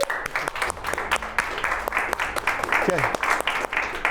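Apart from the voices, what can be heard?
instructor clapping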